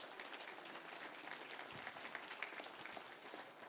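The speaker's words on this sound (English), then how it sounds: "How about a big cheer for that, folks?" An audience at a charity breakfast for a civil legal aid organisation applauds in a steady, dense wash of clapping that stays fairly faint and distant throughout, with no clear voices above it.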